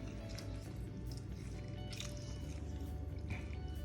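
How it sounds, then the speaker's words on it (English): Wet squishing and dripping as water is squeezed out of salted cucumbers for kimchi, under a steady background hum, with small splashes throughout. "You just squeeze water out of it,"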